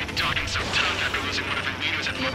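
Missiles fire and streak past in the Ace Combat 7: Skies Unknown jet combat game, a rushing, booming roar of launches and engine noise with radio voices talking over it.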